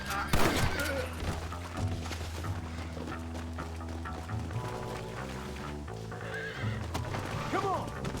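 Horses in the Red Dead Redemption video game whinny sharply and clop their hooves, with neighs near the start and end, over game music, bursts of distant gunfire and people talking.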